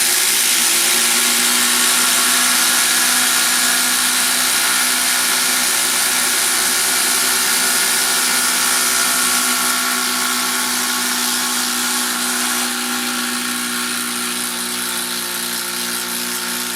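A Makita 18 volt subcompact impact driver, the least powerful 18 volt model, runs steadily at close range, a continuous high-pitched whine and buzz that holds for the whole stretch with no voices.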